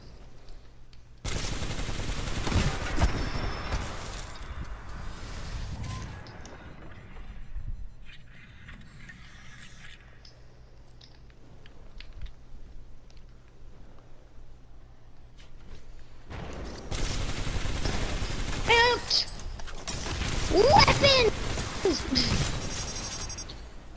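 Light machine gun fire from the video game Titanfall 2 comes in two long, dense bursts of rapid shots with gear and mechanism noises between them, all fairly close and loud.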